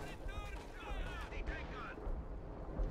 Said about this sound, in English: artillery going in over here